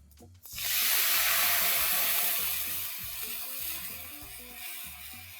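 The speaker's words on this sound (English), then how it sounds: "I'm going to whisk this mixture once again and pour it in very carefully" A dahi kadhi mixture being whisked and poured into a pan, a loud splashing, rushing pour that swells quickly and then settles into a steady wash of liquid with soft rubbing underneath.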